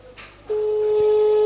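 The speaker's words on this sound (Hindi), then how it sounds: "फ़ोन की रिंगटोन हो रही है लेकिन अभी तक उठाया नहीं।" Outgoing telephone call ringing unanswered: after a short burst of noise, a steady electronic ringback tone sounds loud and continuous, clear and close.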